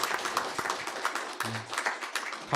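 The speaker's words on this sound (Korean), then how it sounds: "여러분 박수해 주시기 바랍니다" A church congregation applauds during a Sunday worship service, a steady wash of many hands clapping at moderate loudness, with a brief voice or tone cutting in partway through.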